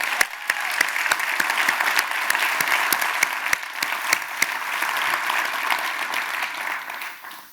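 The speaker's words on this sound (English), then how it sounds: "Please let's give them a round of applause." Audience applause for young musicians from school groups after their performances at a children's hospital partnership event, a steady sustained clapping from a sizable crowd with sharp individual claps standing out, fading slightly at the end.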